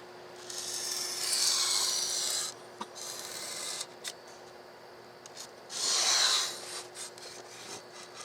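A tail part for an RC Lufthansa A350-900 XWB model airplane is cut out freehand, with raspy rubbing and cutting strokes in several bursts separated by quieter pauses and small taps.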